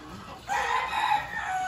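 A rooster or chicken calls loudly and close, a single drawn-out crowing cry following a brief quieter stretch, from a flock of chickens and turkeys.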